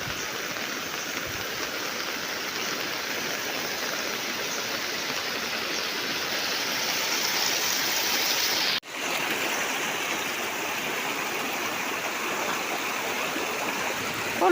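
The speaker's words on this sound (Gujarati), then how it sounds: "ફૂલ પ્રેશરથી આવે છે પાણી." Floodwater gushes at full pressure down a village street after heavy overnight rain. A loud, continuous rushing roar holds steady throughout, with one brief dip partway through.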